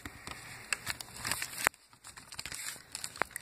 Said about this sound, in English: I'm going to tape it up and uh, keep on taping it up